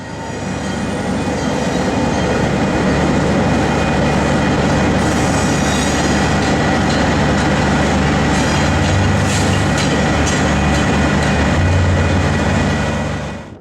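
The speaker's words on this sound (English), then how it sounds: "1101 leads the train all the way down Walker Street" A Santa Cruz and Monterey Bay Railway train led by locomotive 1101 rumbles steadily along a street track on Walker Street, wheels grinding and squealing with a loud, continuous roar that eases slightly at the end.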